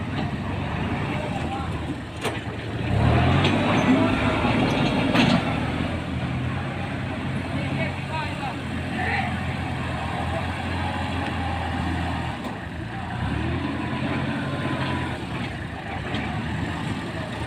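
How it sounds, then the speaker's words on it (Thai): Two L3408 tractors churn and push a mixed heap of chicken manure for pelleted organic fertilizer, a steady diesel engine drone with a louder surge early on, running throughout beneath voices. "นี้รถไถกำลังดัน ขี้รีพี่น้องที่ผสมแล้วเนาะขี้รีขี้ไก่"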